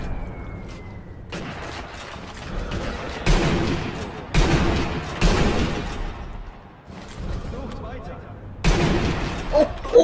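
Sniper gunfire in the video game Sniper Elite V2: a handful of sharp, loud shots crack out at irregular intervals, each with a noisy rolling tail, over a steady game background.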